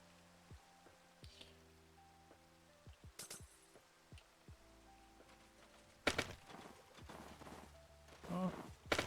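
Rain in Minecraft falls as scattered soft patter over thin game tones, with occasional sharp ticks and louder splashing bursts building toward the end.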